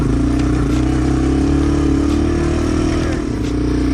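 A Yamaha TW200 dual-sport motorcycle rides a trail, its single-cylinder engine droning loudly and steadily close by, with rough clattering over uneven ground.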